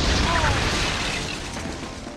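Explosion in an action film about a drug cartel chase, a loud broadband blast that fades into rumbling debris over about two seconds.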